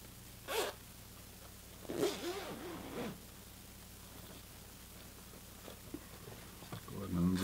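A zipper is unzipped on a sewn fabric makeup bag, with a few short scratchy zipping strokes and light handling noises close by in a quiet room.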